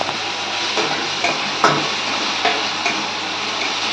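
Katla fish curry with capsicum cooking in a pan, a steady hissing sizzle broken by a few light clinks and stirring scrapes, close and without talk.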